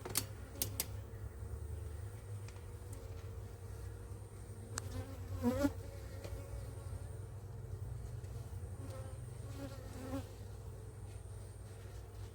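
Honeybees buzz steadily around an open hive during a flow frame harvest, a close, continuous droning hum with passing individual bees rising and fading.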